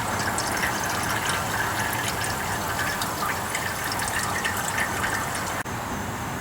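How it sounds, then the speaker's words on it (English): Engine oil draining from the oil pan of a Toyota Matrix, Pontiac Vibe or Corolla during an oil change, a steady close liquid trickle and splatter that runs continuously, with a small click near the end. "you let that oil drain for maybe 5-10 minutes"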